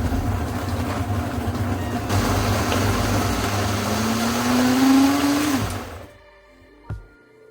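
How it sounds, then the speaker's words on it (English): A blender purees bulgogi marinade with a loud steady motor whir that rises in pitch near the end, then cuts off, followed by a brief clunk. "Let's puree it."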